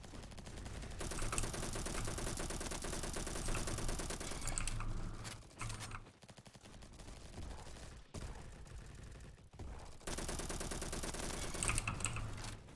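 A submachine gun in the Roblox shooter Bad Business fires long, rapid bursts, loud and close, broken by a few short pauses before the rattling fire resumes.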